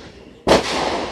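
A single loud firework blast bursts suddenly after a quiet moment, followed by a lingering crackling rumble.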